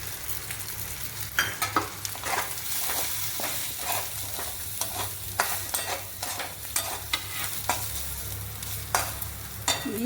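A spoon scrapes and stirs grated coconut and ginger in a frying pan, with repeated scraping strokes over a steady low sizzle, close and fairly loud.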